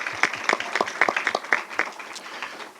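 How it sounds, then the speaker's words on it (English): A small audience gives a round of applause for a community discussion panel, a handful of distinct nearby claps in a quick uneven rhythm that taper off after about two seconds. "So let's give our panel a round of applause."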